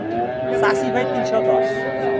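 A bull at a cattle market for Eid sacrifice moos in a long, drawn-out low call that rises and sustains steadily, close by and loud, with faint background murmur.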